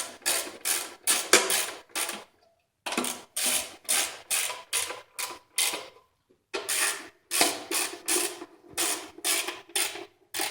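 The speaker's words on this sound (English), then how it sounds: "use your 10mm socket, 3/8 drive ratchet, and fasten them down" A 3/8 drive ratchet with a 10mm socket snugs down small bolts on the plastic cover of a Mitsubishi Lancer GTS during a spark plug change, giving close, steady bursts of rapid clicking in three runs with short pauses between.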